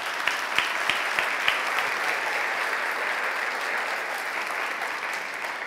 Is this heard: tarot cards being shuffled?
no